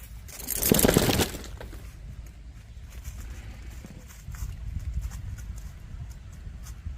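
Hooves of Maverick, a 16-hand, 8-year-old Tennessee Walking horse, being ridden near a camp, with a loud burst of scuffing and thudding early on, then softer, scattered hoof sounds and rustling outdoors.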